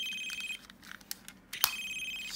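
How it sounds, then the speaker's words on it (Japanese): A GaoRanger G-Phone, a snack-toy mobile phone from the Hyakujuu Sentai series, chirping its electronic call ringtone in quick repeated trills, faint and tinny, with small handling clicks in between. "なんかコール音めっちゃ鳴る。"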